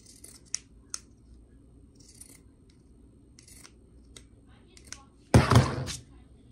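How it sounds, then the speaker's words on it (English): Scissors snip the fabric seam allowance on sewn bell-bottom pants. A few light clicks come first, then one loud, close rasping cut near the end, with no talking. "I'm just gonna trim my seam allowance."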